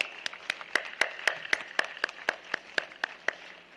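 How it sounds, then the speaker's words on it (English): Dignitaries at an international pharma conference receive a round of applause, heard as one nearby clapper's steady, evenly spaced claps over a soft background of other hands. "A big round of applause."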